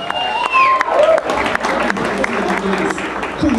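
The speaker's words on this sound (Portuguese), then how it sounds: "uma salva de palmas para ela" Audience applause and cheering at a live painting art battle event, a crowd clapping and whooping while an announcer talks over it, with a short squeal and shuffle near the end.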